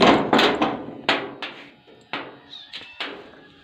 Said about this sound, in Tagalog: Meron kasing naligaw dito na kuting guys.